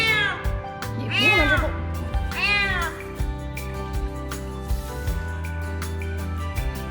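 A frightened kitten rescued from a pond meows twice in drawn-out, rising cries, loud and close over steady background music.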